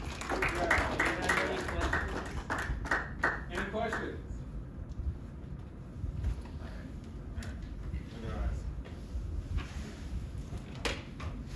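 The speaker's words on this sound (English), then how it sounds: "Give them a round of applause," Lecture audience applauds, a burst of clapping that fades after a few seconds into quieter room noise with scattered claps and shuffling.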